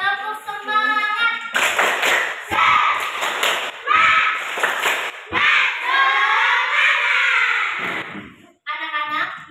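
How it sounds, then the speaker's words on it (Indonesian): Schoolchildren in a classroom perform a rhythmic spirit clap chant, loud bursts of clapping in a patterned beat mixed with many young voices chanting together, filling most of the clip before a brief pause. "Tepuk semangat."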